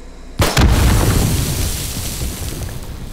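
A pipe bomb detonates in 7 Days to Die: one loud, close blast bursts out of near silence, followed by a long rumbling decay that fades slowly.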